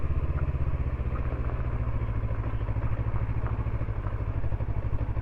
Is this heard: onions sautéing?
no